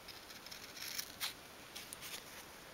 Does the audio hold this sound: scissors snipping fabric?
yes